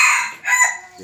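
A junglefowl crows twice in a row, close and loud, each call bright and slightly ragged with a short gap between them.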